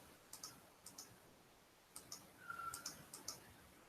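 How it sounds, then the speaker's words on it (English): Computer mouse buttons clicked in quick pairs and short bursts, close and crisp, about a dozen small clicks spread over a few seconds in a quiet room. "Oh, let me click all this stuff."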